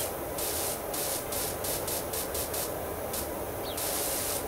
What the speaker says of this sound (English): Just kind of try and spray underneath.